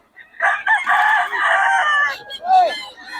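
A rooster crows loudly and close by at a Bocaue tiangge market, giving one long strained call followed by a shorter second crow, with a brief cluck between them.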